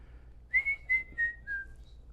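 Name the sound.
man whistling, imitating a bird song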